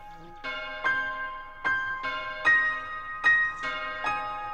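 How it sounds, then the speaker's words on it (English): A bell chimes in a song, struck about every 0.8 seconds with long, overlapping resonant rings, clear and upfront with no talk. "Making a beat with the bell?"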